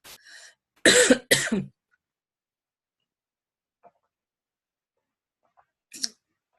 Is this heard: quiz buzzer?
no